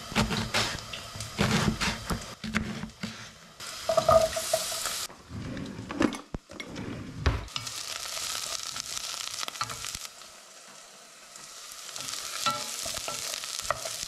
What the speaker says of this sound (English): I've put quite a bit of oil in there, in that pan there. And right now I'm just popping some aubergine into it.